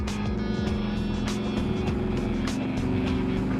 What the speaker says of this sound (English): as Ken puts the 427 blown big block through its paces